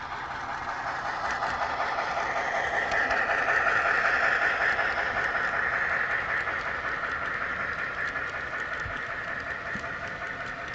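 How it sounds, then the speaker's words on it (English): A Broadway Limited ES44 model train locomotive runs on a small loft layout. A steady, fairly loud mechanical whir and hum holds throughout, rising slightly in the middle, with no talk. "It's like it's going fast for this locomotive."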